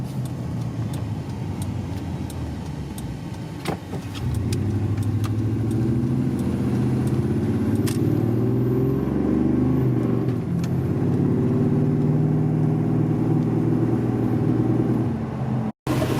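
A Chevrolet K1500 truck engine idling with a new EGR valve, running rich with black exhaust smoke: a steady, close, mid-pitched idle rumble that goes on throughout, with a few light clicks and a faint rise in pitch partway through.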